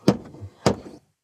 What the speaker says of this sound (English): Kicking the door.